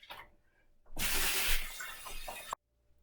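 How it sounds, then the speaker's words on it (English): Running tap water splashes loudly into a sink for about a second and a half while hands are washed with soap, then cuts off sharply into near silence. "Always start by washing your hands with water and soap."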